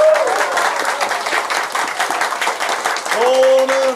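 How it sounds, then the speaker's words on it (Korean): Steady crowd applause fills a Korean lecture hall during a talk by Doh-ol, loud and continuous, with a brief voice or tone rising near the end. "박수 부탁드립니다."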